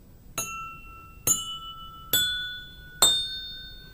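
Water-filled glasses at differing levels struck gently four times in steady succession, each strike a bright ringing ding that lingers and decays, with a changing pitch between glasses and no other sound around them.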